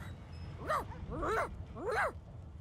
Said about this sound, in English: The dog whines and continues pawing at its nose.